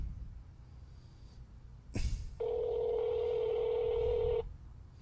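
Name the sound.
telephone call dialing and ringing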